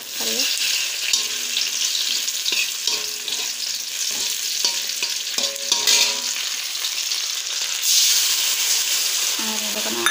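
Steady loud sizzling of onions and chillies frying in hot oil, with stirring scrapes and clinks throughout, close up and continuous.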